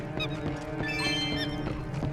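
A chicken in Zelda Twilight Princess making harsh, honking cackles in a rapid repeated series over steady game background music, with no talk.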